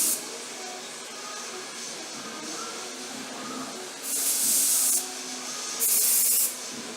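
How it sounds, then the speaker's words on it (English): Aerosol hair spray hisses in two short bursts, about a second each, over quiet background rustling. "you want to keep shaking as you're spraying because that's going to get the best disbursement of the product"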